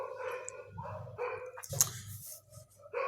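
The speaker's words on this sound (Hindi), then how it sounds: "कुत्ते भौंक रहे हैं" Several dogs bark in repeated bursts at close range, loud sharp yaps mixed with deeper woofs and some overlapping yips, with brief quiet gaps between barking spells.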